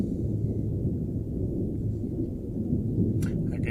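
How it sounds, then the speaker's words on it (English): Steady low rumble of a thunderstorm in the flight game Signal Simulator, with rain-like wash throughout and a brief crackle near the end, heard alone. "The thunderstorm is on its way."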